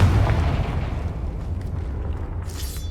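A Confringo spell explodes in the video game Hogwarts Legacy, giving a full, roaring blast that holds steady for a few seconds and then slowly thins out, with no one speaking.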